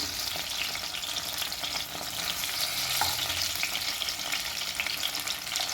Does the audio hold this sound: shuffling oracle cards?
no